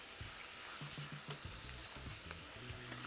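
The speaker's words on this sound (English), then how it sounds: "Also, we have about 2 cloves of garlic minced. Fry that for a few minutes." About two cloves of minced garlic frying in a pan: a steady, close crackling sizzle with occasional soft scrapes and taps of a utensil, no voices.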